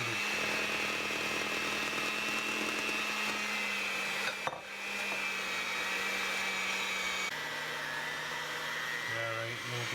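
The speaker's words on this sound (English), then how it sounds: "You can hear our motor bogging down, so we're going to switch to hand mixing" Stand mixer motor bogging down under heavy babka dough, a steady loud whirring drone with a shifting pitch that dips briefly mid-way and changes tone near the end.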